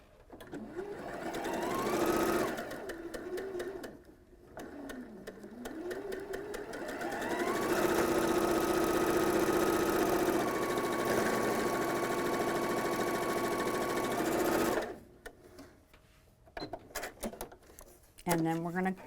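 A domestic sewing machine stitches a quilt block seam in steady bursts, starting and stopping with a clear whirring hum, close and fairly quiet, alongside a voice talking.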